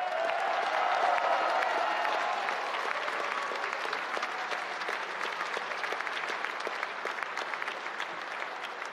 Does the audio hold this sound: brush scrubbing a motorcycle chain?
no